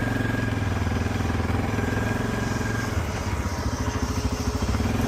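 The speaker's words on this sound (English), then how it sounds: "Hydraulics lift up. Linkage lifts up on the back of the 1050 as well." A Fendt 1050 Vario tractor runs steadily nearby as its hydraulics raise a TWB Terminator cultivator on the rear linkage, a continuous low engine drone with a slight shift in tone partway through.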